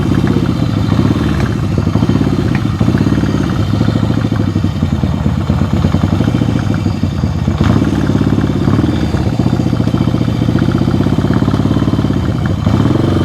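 A vintage Yamaha motorcycle engine idles close up, a loud steady low rumble with a rapid even pulsing and slight mechanical clatter throughout.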